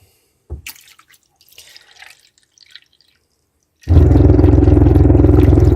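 Water from a tap as hot water starts to arrive: a few sparse drips and small knocks, then a loud, steady close gush of running water filling the last two seconds.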